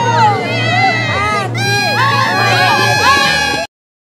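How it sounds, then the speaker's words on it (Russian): A crowd of spectators at a ski race finish cheers and shouts loudly and continuously, excited voices overlapping, before cutting off abruptly. "радостно встречают болельщики"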